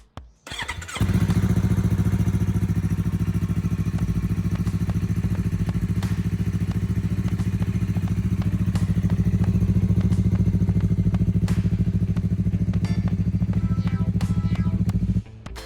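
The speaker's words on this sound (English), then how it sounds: "I'll do a startup for you guys so you can hear it" A 2020 Yamaha R3 motorcycle fires up after a brief starter whir and settles into a loud, steady, close idle with an even low rumble, running until it cuts off at the end.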